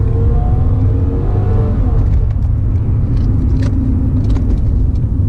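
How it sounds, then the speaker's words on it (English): A Toyota Camry with an automatic V6 floored from a launch, a loud, close engine rumble holding steady while it accelerates, heard from inside the car with faint clicks and rattles. "As soon as you floor it, put it in drive."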